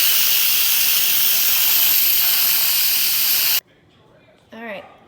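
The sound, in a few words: steam released from Instant Pot pressure cooker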